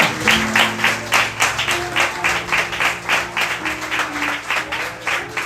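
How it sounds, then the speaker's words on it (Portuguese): A church congregation claps together during a worship service, a dense, steady wash of hand claps with a rhythmic pulse, loud and continuous over a sustained musical backing. "Uma salva de palmas ao Senhor."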